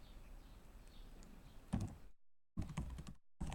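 Keys clack on a computer keyboard in quick bursts of typing, separated by short silent gaps, against a faint background hum.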